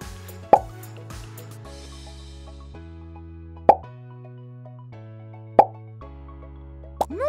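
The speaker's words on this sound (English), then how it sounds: "Move the soap around to give Tango a scrub." A puppy named Tango is scrubbed with soap in a Sesame Street pet-care video game, heard as three or four distinct bubbly plops spaced a couple of seconds apart over a looping, bouncy musical backing.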